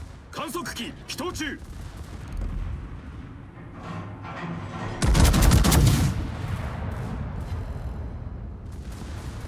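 Warship guns firing high-explosive shells in a naval battle video game, booming salvos with a heavy sustained roar in the middle, over continuous rumbling battle noise.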